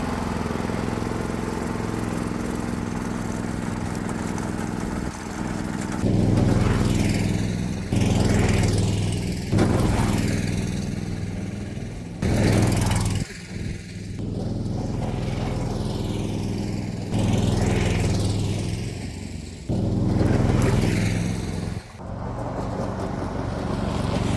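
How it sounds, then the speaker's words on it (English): A 420cc gasoline engine on a Cushman Desperado golf cart revving hard and loud at full throttle while driving, surging up and down in repeated bursts as the throttle is opened and eased. "Now driving at full throttle, it's definitely not recommended, but let's go ahead and do that some more."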